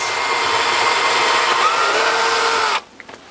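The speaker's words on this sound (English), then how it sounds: "we're going to take our drill. We're going to actually pre-drill a hole in our brackets" A power drill pre-drilling a hole in a dishwasher mounting bracket whirs steadily at close range for nearly three seconds, then stops abruptly, followed by a few faint clicks.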